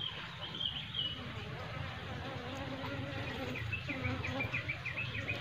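Honey bees in an open, queenless hive box make a soft, continuous buzzing hum up close, with faint higher whines of individual bees flying past.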